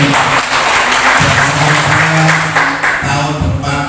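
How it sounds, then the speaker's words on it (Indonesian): Loud applause from attendees at a village development planning meeting in Kepung, dense clapping close to the microphone over a steady low hum, lasting a few seconds. "Tepuk tangan untuk pemerintah"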